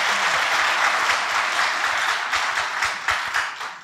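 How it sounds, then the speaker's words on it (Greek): A church congregation applauds during a sermon: full, sustained clapping that thins toward the end, where a few sharper individual claps stand out. "Χειροκροτάμε για τον Κύριο."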